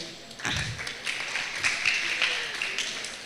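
Scattered clapping from an audience at a Nigerian talk event on period poverty, applauding a sponsor; a few claps and taps, modest and uneven, with background voices.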